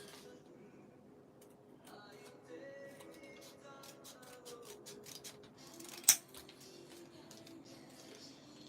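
Scissors snip through material during a DIY craft session, with a string of light, quick clicks and one sharp cut standing out, quiet and close, while a faint voice is present.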